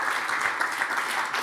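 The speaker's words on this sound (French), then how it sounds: "Aussi, vos applaudissements pour Anne Verreek." Applause from a webinar audience welcoming a panelist, a steady broadband patter of clapping lasting the whole short moment at moderate level with no voices over it.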